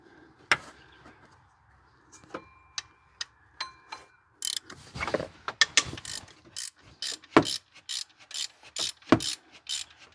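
Quick, crisp clicking of a hand ratchet backs off the long alternator mounting bolts on a car, coming in close, irregular bursts with small metallic knocks between strokes.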